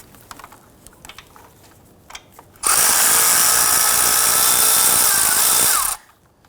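A power tool spins on an alternator bolt of a 2007-2021 Toyota Tundra 4.7L V8, a loud continuous high-pitched whir lasting about three seconds after a few quiet clicks and taps, then cutting off abruptly.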